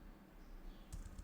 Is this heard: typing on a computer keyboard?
yes